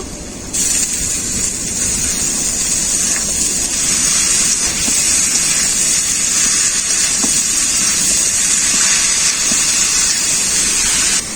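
Banana flower dropped into fried spice paste in a hot pan, giving a steady loud hiss and sizzle that continues without a break, with no talk.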